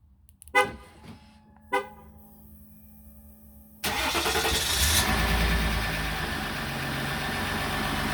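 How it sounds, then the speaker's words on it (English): A Ram EcoDiesel with a full delete and straight pipe cold-starts: two short cranking bursts, then the engine catches and settles into a loud, steady, rumbling idle close by. "So here's a cold start."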